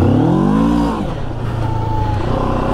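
Moto Morini X-Cape 650cc adventure motorcycle being ridden, its engine droning steadily and loud up close, with a rising then falling pitch early on before settling into an even hum.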